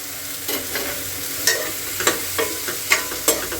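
Tomato masala with turmeric cooks in a pan, a soft steady sizzle broken by several sharp scrapes and clicks of stirring, close and moderately loud with no talk.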